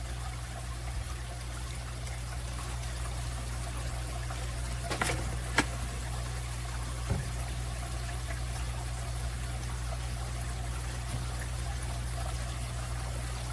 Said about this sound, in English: We're going to shake that up. And we're going to add 1/2 cup of it.